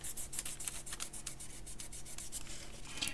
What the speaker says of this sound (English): I'm going to burnish it again to make sure that my glitter stays there this time